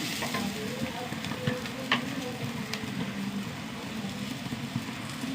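Onions sautéing in a pan, with a steady close sizzle and frying crackle throughout and a few scraping stirs of a spoon against the pan.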